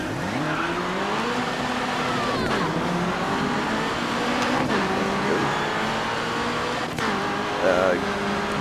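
Racing car engines in the video game Grid 2 drone steadily with repeated rising revs and gear shifts and occasional tire squeals, loud and continuous, while a voice talks over them.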